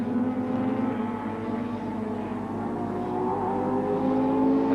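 A 1981 touring race car at Oran Park sprints through the final laps of an endurance championship round, its engine droning with rising and shifting pitch, loud and steady, with no speech.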